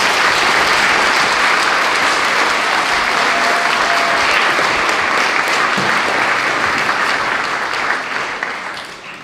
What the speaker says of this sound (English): can we give them another big clap?